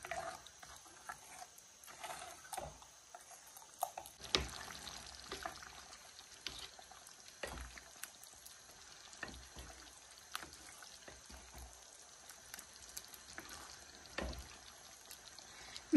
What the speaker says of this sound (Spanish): Yo aquí le voy a poner un poquito más de agua porque lo voy a dejar que hierva bien.